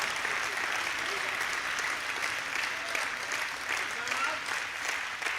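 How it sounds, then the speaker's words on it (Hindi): Audience at a Hindi poetry recital claps steadily in a broad, moderately distant wash of applause, even and continuous throughout without voices rising above it. "तालियां थोड़ी बड़ी कर दे यार उनके लोग।"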